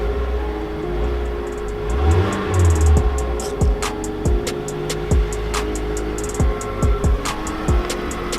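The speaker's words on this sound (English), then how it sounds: "Car's running, it's on." Running engine of a Mazda 3i car, idling with a steady low hum and a series of sharp intermittent clicks and knocks over it, close and moderately loud, no talking.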